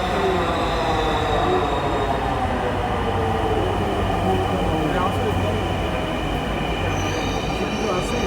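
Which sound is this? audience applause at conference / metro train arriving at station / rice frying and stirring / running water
metro train arriving at station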